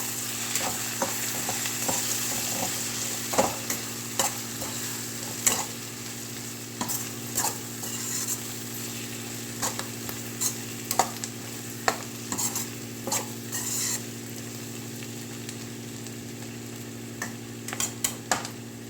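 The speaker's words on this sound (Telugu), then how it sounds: "ఇప్పుడు మనం దీన్ని మొత్తం ఒకసారి కలుపుకుందాం మిక్స్ చేసుకుందాము" A spoon stirs capsicum putnala karam fry in a pan, giving repeated irregular scrapes and clinks over a steady low sizzle, close and moderately loud throughout.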